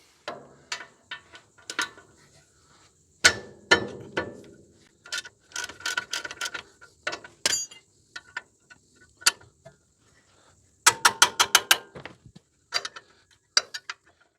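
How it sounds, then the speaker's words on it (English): A hand ratchet works loose the 19mm caliper bracket bolts on a Nissan Patrol's rear brakes, giving bursts of rapid, close, crisp clicking separated by pauses, with occasional metallic clanks as the tool is repositioned. "Now we'll remove the caliper bracket, which is these two bolts here, and they're both 19mm"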